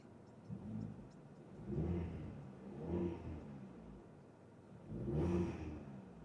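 Volkswagen T-Roc mild hybrid engine idling with a low steady rumble, rising in three soft revs that swell and fade, heard nearby with no voices.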